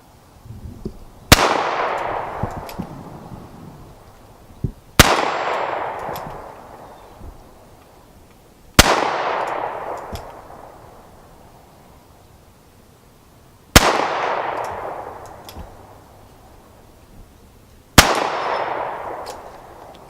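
Handgun shots crack out at a shooting range, five loud, sharp reports spaced a few seconds apart, each trailing off in a short echoing decay.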